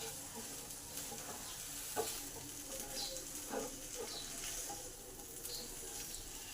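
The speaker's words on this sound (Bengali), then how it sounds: "এবার সব মশলাগুলো ঢেঁড়সের সাথে আলুর সাথে মিশিয়ে দেবো 2 মিনিট ধরে নাড়াচাড়া করে।" Okra and potatoes with spices stirred in a pan over low heat, a faint, soft sizzle with occasional light scrapes and taps of a spoon.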